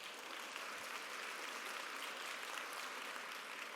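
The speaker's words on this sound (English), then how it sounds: "Let's do a round of applause." Applause fills the room at a corporate PHRMA keynote event, a soft, even spread of many hands clapping, heard from some distance and fairly quiet throughout.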